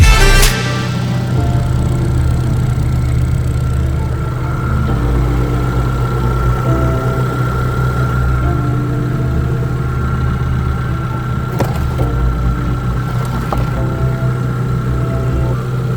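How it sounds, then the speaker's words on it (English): The engine of a Fiat 595 Abarth project car idling after fluid top-up, a steady loud low rumble with constant vibration, recorded close, with a sharp click at the start and a couple of faint taps later. "With the engine running and the fluids topped up, it's now time to check for leaks."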